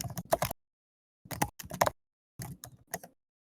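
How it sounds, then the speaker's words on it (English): Several people typing on computer keyboards during an online community call, quick bursts of clattering keystrokes separated by short silent gaps, close and fairly quiet. "Several people are typing."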